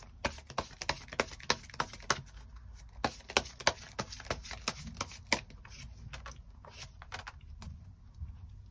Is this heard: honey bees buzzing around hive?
no